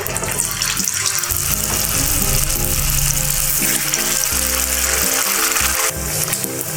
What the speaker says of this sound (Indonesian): Kalau minyaknya udah benar-benar panas, kita masukkan empek-empeknya.